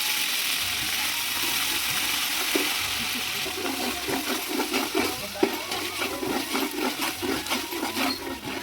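Ginger sizzling in hot oil with cumin seeds and asafoetida, a steady close frying hiss broken by small crackles and the scrape of a stirring spoon, with no one speaking.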